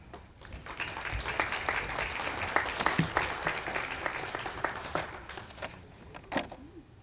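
An audience at a School of International Studies graduation hooding ceremony claps with distinct, scattered hand claps that swell and then thin out near the end.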